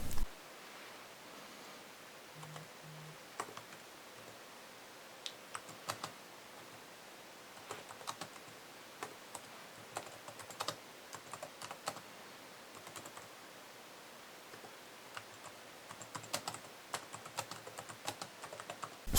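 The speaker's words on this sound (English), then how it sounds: "I used any of the keyboard" Typing on a computer keyboard by someone using one hand, quiet irregular key clicks in short bursts and scattered taps over a faint room hiss, with no voices.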